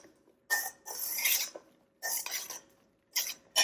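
Gunpowder potatoes tossed in a pan with re-melting butter, giving three separate bursts of clattering, scraping pan noise with brief quiet gaps between them, close and fairly loud.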